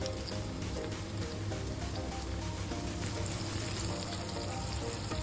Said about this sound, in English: Next step is to pan fry the meatballs.